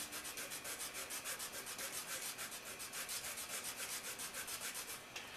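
A clarinet cork is sanded to a slight bevel at its edge, giving close, quiet, rhythmic rubbing strokes in a steady back-and-forth pattern that stop just before the end.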